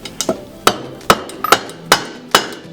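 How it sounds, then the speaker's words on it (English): A rubber hammer strikes the cooling fins of a Honda GX630 engine cylinder in a steady series of about seven dull, close knocks, evenly spaced with a short gap midway, no voices. "I'm just going to get a rubber hammer and so I can do some tapping on the cooling fins"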